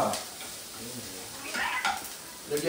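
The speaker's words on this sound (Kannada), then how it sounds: "ಈರುಳ್ಳಿ ಒಂದು 2 ನಿಮಿಷ ಬೇಯಿಸ್ಬಿಟ್ಟು ಮಾಡ್ಲಾ?" Onions fry in a pan while being stirred: soft, uneven sizzling broken by a few scraping strokes and light clinks.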